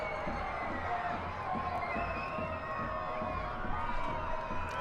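Stadium crowd noise at an Orange County SC versus Las Vegas Lights soccer match, a steady roar of fans cheering and shouting throughout, broad and continuous with no distinct voices standing out.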